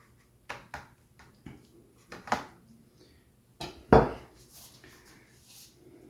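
A utensil scrapes and clanks against a tin foil pan while lasagna is served, giving scattered soft metallic taps and crinkles, fairly quiet and close, with no talk.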